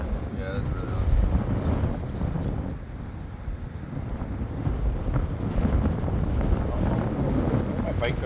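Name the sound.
strong wind blowing into the microphone outdoors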